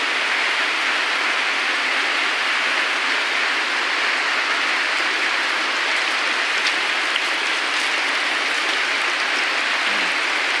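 Steady rain falls outdoors in the Philippines, a dense unbroken hiss of drops at an even, fairly loud level for the whole stretch, with no voices.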